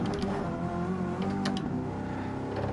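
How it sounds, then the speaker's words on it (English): Truck engine revving in the racing video game Gran Turismo 7: a steady, loud, dense engine roar holding throughout with a few brief higher tones on top, and no talking. "The engine in this truck sounds incredible."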